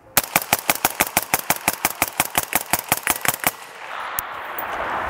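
An AR-15 rifle with an H4 buffer firing roughly twenty rapid, evenly spaced shots as a magazine is emptied, loud and close, followed by a brief click and lingering ambient noise.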